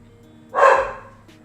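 A single dog bark rings out nearby, one sharp mid-pitched woof over a quiet background hum, followed by a faint short sound just after.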